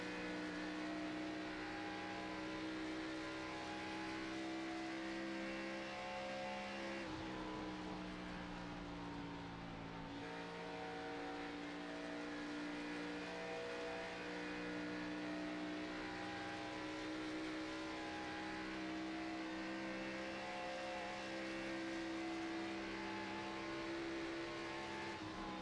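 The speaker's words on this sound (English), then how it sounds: "Coming up on a couple of cars entering the pit area." Race cars circle Las Vegas Motor Speedway near the pit area, their engines a steady, fairly faint, layered drone with a pitch shift midway as one car passes or shifts, with no voices.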